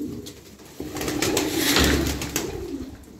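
A flock of ten young ash-coloured pigeons coos in low, rolling throaty calls close by, swelling in the middle, with wing flutters and shuffling around them.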